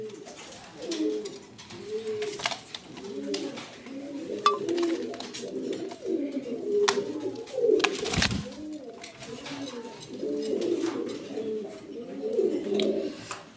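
Fancy pigeons at a seller's loft coo in repeated soft, throaty rolls, several birds overlapping close by, with scattered clicks and flutters between the calls.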